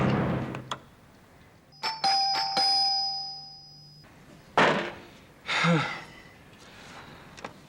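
A doorbell rings once with a bright ding-dong chime that hangs for a couple of seconds, followed by thumps and breathy sighs nearby.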